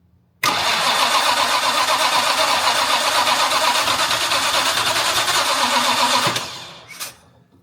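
A Jaguar MKII engine with a faulty throttle linkage fires up and runs loud and close at a sustained high rev, then drops off sharply, followed by a brief blip.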